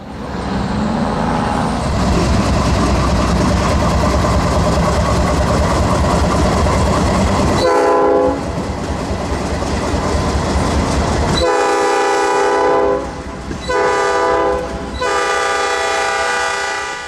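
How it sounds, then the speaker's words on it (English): A Norfolk Southern train rumbles past in the distance in Jacksonville with steady clattering, then long horn blasts sound over the rolling noise, loud and sustained. "we saw train 330 doubling out in the distance"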